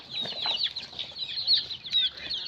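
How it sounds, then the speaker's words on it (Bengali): Kadaknath chickens cluck and chirp close by in a chick-rearing setting, with a busy overlapping stream of high, short calls and a little wing flapping. "আর এটা হচ্ছে কাদানাথ মুরগি"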